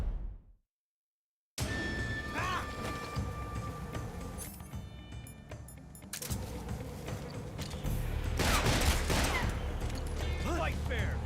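Gunfire rings out in the Metal Gear Solid Delta: Snake Eater video game, with dense bursts of shots and mechanical clatter over a loud, busy mix. The sound cuts in after a brief silence and grows heavier toward the end.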